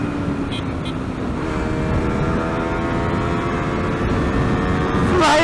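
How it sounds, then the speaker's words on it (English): Yamaha R3 motorcycle at full throttle around 150 km/h, a loud steady engine drone rising in pitch under heavy wind rush, alone with no talk. "we are doing about 150 kilometers an hour and all that I have to do is open the throttle"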